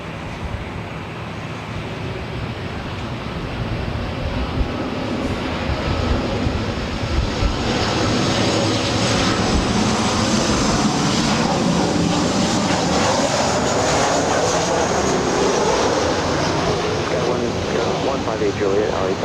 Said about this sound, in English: Next arrival is Southwest Airlines Flight 2597 coming in from San Jose. It's a 737-700.